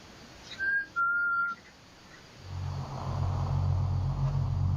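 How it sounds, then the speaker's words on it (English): Someone whistles two clear sustained notes, one short and one longer, close and fairly loud, followed by a low rumbling hum that builds up underneath. "The sound of someone whistling is heard clear as day on camera"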